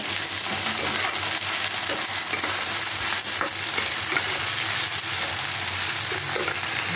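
Chopped tomatoes drop into hot oil in a frying pan while cooking rohu chilli fish, giving a steady, loud sizzle with scraping stirs and small crackles, no voices over it.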